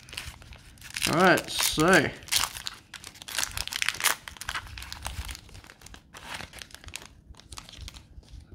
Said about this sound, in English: gotta use the scissors as I'm not any good at opening these